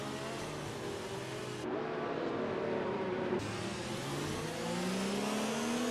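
Formula 1 race cars in a video game at the Bahrain Grand Prix, engines revving and rising in pitch as they accelerate, with overlapping engine whines shifting as cars pass, continuous and moderately loud.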